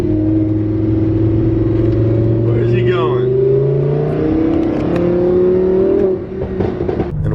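A Lamborghini accelerates and revs hard, its engine note climbing and shifting through gears, loud and close, with people talking over it.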